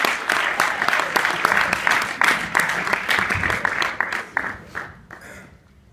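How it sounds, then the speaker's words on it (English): An audience applauds the actors before a new musical's first act, dense clapping from many hands that holds steady and then thins out and fades toward the end. "if we give the actors, one of them, a round of applause before it starts"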